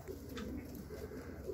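Pigeons coo softly inside a coop, a few low rolling coos repeating close by over a steady background hum.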